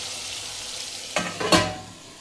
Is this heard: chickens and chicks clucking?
no